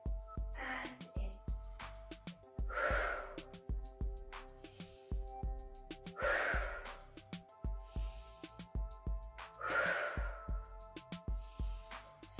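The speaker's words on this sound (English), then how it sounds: "And we think about our breathing. Breathing out and in." Slow, deep breaths out and in during a gentle stretch-and-breathe class for parents and carers, soft airy exhales rising and fading every few seconds over quiet background music.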